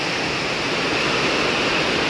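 Heavy rain pours down in strong wind, a dense, steady hiss of falling water close by that fills the whole stretch without any voices.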